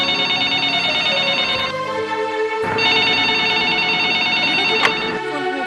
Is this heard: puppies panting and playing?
no